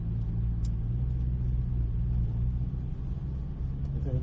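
A low, steady engine rumble from a Corvette C8 idling and starting to move off on a race circuit, with a faint rising whine near the end.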